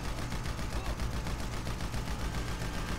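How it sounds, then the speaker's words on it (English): Rapid automatic gunfire in GTA 5 rattles without a break at a fast, even rate for the full three seconds, loud and dense. "He immediately starts shooting."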